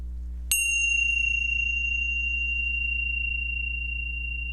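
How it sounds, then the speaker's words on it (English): A single bell struck once during a memorial moment in a worship service for those who died of COVID-19, ringing clear and bright, then sustaining a long, slowly fading tone over a low steady hum. "We ring a bell to remember them"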